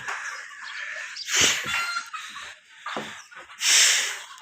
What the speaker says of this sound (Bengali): ওই যে আমার মুরগিগুলো এখানে দেখা যায়